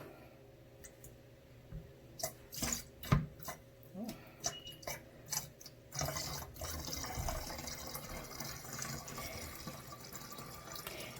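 Liquid pours and splashes into a carpet cleaner's tank during a refill, with bursts of filling, drips and clunks that turn into a steady gushing stream, faint and close, with no talk.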